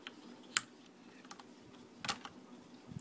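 Keycap pried off a Ducky DK9008S Shine mechanical keyboard with a keycap remover, giving a sharp snap followed later by a rattly plastic click, close and quiet against a faint room hum.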